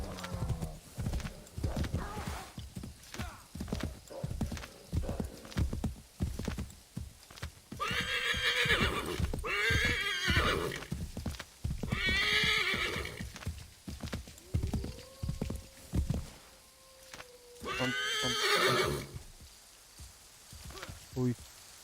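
Horse hooves clip-clop in a steady gallop in the video game Assassin's Creed III Remastered, with several loud whinnies breaking through over soft patter and a bit of background talk.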